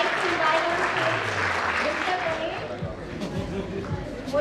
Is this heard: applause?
yes